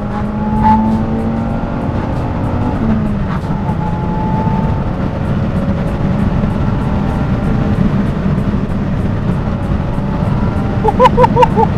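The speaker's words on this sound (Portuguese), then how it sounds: "Para se ouvir este carro a fazer grito." A Citroën Saxo Cup with a 1.6 16v engine runs at idle and revs, its steady engine drone rising and shifting pitch, heard close and loud from inside the car, with a few sharp clicks near the end.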